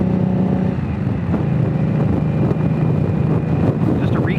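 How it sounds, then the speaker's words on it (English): Strong wind on a windy day in Oklahoma buffets the microphone in rough, continuous gusts beside a 2021 Indian Scout Bobber Twenty motorcycle, with a low rumble underneath and no clear speech. "It's really windy today here in Oklahoma."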